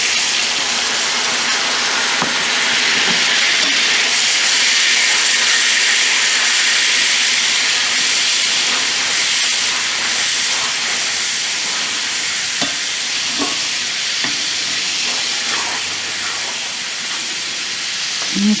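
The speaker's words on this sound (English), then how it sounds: "I want to put in a little bit of this broth." Broth poured into a hot pan with bacon and shrimp, giving a loud, steady sizzle and steamy hiss that fills the whole stretch, with faint stirring clinks and no talking.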